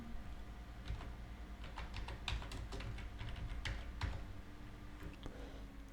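Rapid keystrokes on a computer keyboard while entering a plugin search, irregular close clicks bunched into quick bursts over a steady low background hum.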